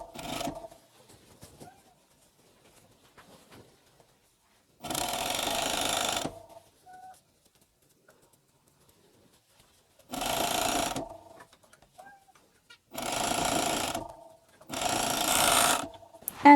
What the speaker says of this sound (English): And now we're going to sew the side seams together.